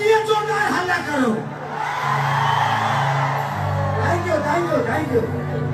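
A large concert audience at a Bhojpuri music show in Kalwa, Mumbai roars with cheering, whoops and shouts, a loud sustained crowd swell that follows and then mixes with amplified voices over the sound system.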